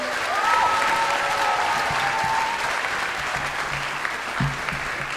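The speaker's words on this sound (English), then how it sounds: "Please, a round of applause for them." Sustained applause from a school-community audience, a dense even patter of many hands at moderate distance, fading slightly toward the end with a few low thumps.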